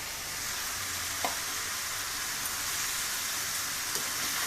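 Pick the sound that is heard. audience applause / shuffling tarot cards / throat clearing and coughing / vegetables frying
vegetables frying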